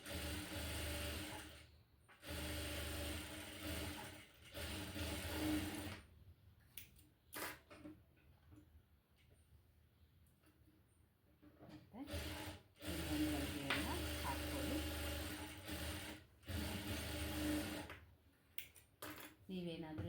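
A sewing machine stitches a petticoat in two long, loud whirring runs separated by a quieter gap. Someone talks over and between the runs.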